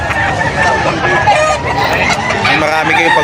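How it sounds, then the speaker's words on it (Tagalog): Roosters and chickens for sale at a busy animal market in Bocaue, Bulacan, crow and cluck repeatedly close by, layered over steady crowd babble. "Ang dami nyo mapipili manok dito."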